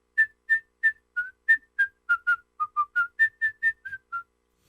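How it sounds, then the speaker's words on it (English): A music track built from short tuned whistle bursts, about seventeen quick separate toots in a bouncy rhythm at shifting pitches, clear and alone with nothing else behind them. "I did all that with like little whistle bursts"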